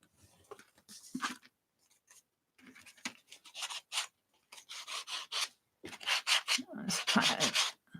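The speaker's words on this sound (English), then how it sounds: "Let's kind of sand that down a little" Paper in a handmade zine journal being sanded down, with short bursts of dry, raspy rubbing that come and go in quick strokes, close and fairly quiet, with brief pauses between passes.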